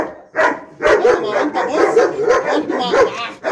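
A dog barks and yips repeatedly in short, loud, close bursts that run almost without pause.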